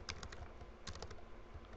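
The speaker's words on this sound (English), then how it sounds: "just push control on your keypad and C" Keys pressed on a computer keyboard, two small clusters of light clicks close to the listener over a steady background hum.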